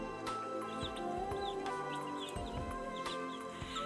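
Newly arrived chicks cluck and cheep in a steady busy chorus, many small overlapping calls close by with occasional sharper peeps and no talking.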